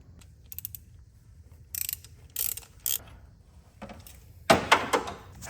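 Ratchet removing 18 mm bolts on a 7.3 OBS Ford F350 engine during a rebuild: several short bursts of rapid ratchet clicking, separated by pauses, ending with a louder clattering burst, close by and without talk.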